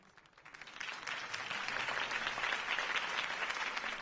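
A crowd's applause in the Batman Telltale game, episode 1, swells in after a quiet start and holds steady, dense clapping continuing to the end.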